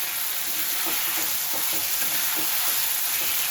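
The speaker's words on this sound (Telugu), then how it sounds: "ఇవి కూడా వేగేంత వరకు వేయించుకోవాలి." Chutney ingredients with asafoetida and tamarind frying in a pan, a constant hissing sizzle with faint stirring scrapes throughout, fairly close and even.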